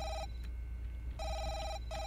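Telephone ringing in the horror video game Five Nights Jorge's: two electronic trilling rings separated by a short pause, clear and alone over a low background drone.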